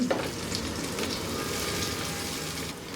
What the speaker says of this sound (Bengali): 5-6 কোয়া রসুন আমি কুচি কুচি করে কেটে নিয়েছি, ওগুলা দিয়ে একটু ভেজে নেব